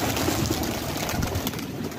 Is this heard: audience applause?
no